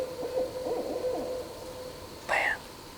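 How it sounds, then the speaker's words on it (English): An owl hoots in the woods on public land reached by water in Alabama in January, a rising-and-falling call heard near the start, then a short louder burst after a pause, with no talking. "that sure is cool having that owl right there"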